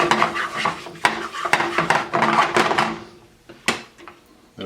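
A spoon stirring flour into bacon grease in a pan to make a roux, with repeated clinks and scrapes against the metal in an uneven rhythm, close and clear, with a faint sizzle underneath.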